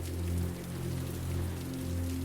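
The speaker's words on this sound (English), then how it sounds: "The rain comes down steadily and feels icy as it lands on your cotton attire and bare arms." Steady rain falls during a tropical storm, an even, soft patter over a low continuous hum, with no pauses.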